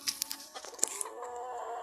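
A few short rooster and hen clucks and squawks close by, fairly quiet, with nothing else around them.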